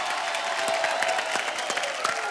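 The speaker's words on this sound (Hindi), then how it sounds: "जोरदार तालियां हमारी क्रिकेट टीम के लिए।" Studio audience applauding the women's World Cup–winning cricket team on a comedy talk show, a steady wash of dense clapping with light crowd noise throughout, moderately loud and continuous.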